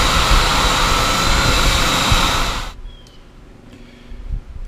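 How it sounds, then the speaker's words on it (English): A spindle sander runs against a charred wooden barrel for a lidded trinket box, a loud, steady whirring hum that drops away suddenly partway through, leaving quiet room noise. "So I'm gonna clean this up on my spindle sander."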